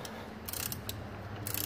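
A 3/8 drive ratchet with an extension loosening alternator nuts on a Case IH Steiger 550 tractor, giving quick metallic ratcheting clicks in short bursts, close up with no talking.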